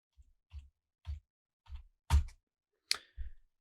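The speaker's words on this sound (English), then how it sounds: "we click on our font tool and then we just start typing." Keystrokes on a computer keyboard while entering text in Adobe Illustrator, a sparse run of about seven soft, close clicks spaced irregularly with short silent gaps between them.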